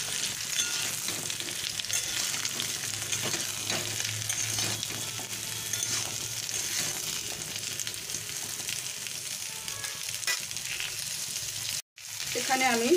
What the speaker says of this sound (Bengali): প্রথমে আমি আলু পেঁপেটা ভালো করে ভেজে নেব।